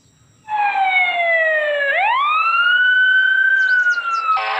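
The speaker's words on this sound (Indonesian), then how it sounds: "Ini mobil pemadam kebakaran." A toy fire truck siren wails steadily and loudly, its electronic tone sweeping down, then up and holding, with a faint click at the end.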